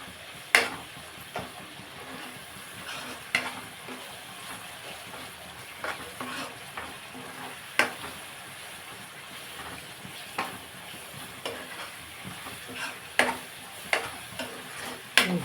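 Spoon stirring fish curry masala in a frying pan, with repeated scraping clicks at an uneven rhythm over a faint sizzle, close and fairly quiet.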